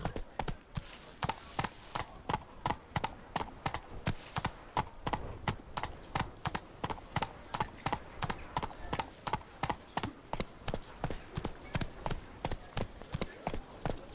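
A horse in The Witcher 3 video game clip-clops along at a steady trot, its hoofbeats loud, regular and close throughout, with a few words spoken faintly over them.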